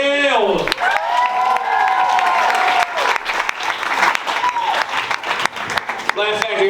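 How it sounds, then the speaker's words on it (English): Comedy club audience at the Laugh Factory applauding a comedian onto the stage, a loud sustained wash of clapping with cheers and whoops throughout, a host's amplified voice briefly audible at the start. "I want everybody to put your hands together for Dorian Gayle."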